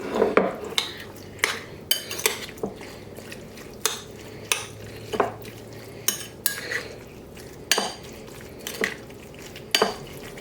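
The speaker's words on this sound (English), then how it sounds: "Get the spoon, give it a good stir." A spoon stirring dairy-free lasagne filling ingredients in a bowl, with a series of distinct clinks and scrapes spaced about once a second over quiet room tone.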